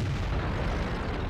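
An E-25 tank cannon fires in the video game World of Tanks, a heavy low boom rumbling through the whole brief moment, loud and close with no voices over it.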